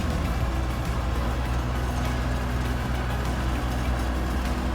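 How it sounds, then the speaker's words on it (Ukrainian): A John Deere 1075 combine harvester engine idles with a steady, dense low rumble, loud and close, running evenly for the whole stretch with no voices. "Двигун працює чітко, не димить."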